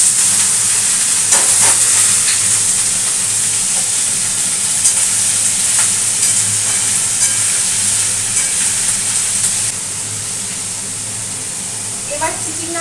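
Snake gourd pieces frying in a pan next to potatoes cooking with meat, giving a steady bright sizzle and hiss throughout with occasional stirring clatter.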